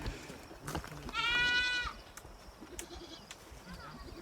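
Goats kept in a fenced pasture give a single clear, wavering bleat lasting under a second, fairly close, over quiet outdoor background with faint bird chirps.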